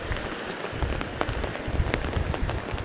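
Heavy rain pours down during the rainy season near rice fields in a flooded area, a dense continuous patter of drops on surfaces, loud and close, with no talk.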